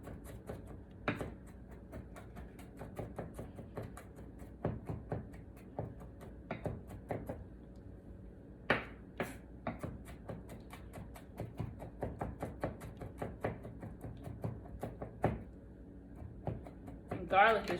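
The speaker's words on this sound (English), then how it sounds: "I am dicing this garlic up" A knife dices garlic on a cutting board, giving quick, faint, uneven taps and chops that keep going steadily with only short pauses.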